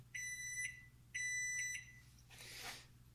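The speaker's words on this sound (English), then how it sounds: "When the timer goes off," An electronic kitchen timer beeps in two sustained high-pitched bursts, followed by a brief soft rustle; close by and otherwise quiet.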